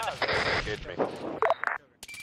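Gunfire from a military combat video game, Campaign Valhalla, in a few sharp bursts mixed with radio chatter and voices calling out during a firefight, followed by a loud crack near the end.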